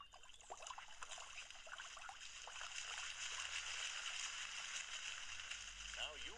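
In a Fireman Sam cartoon, water runs and trickles from a broken pipe as a faint, steady stream beneath voices talking.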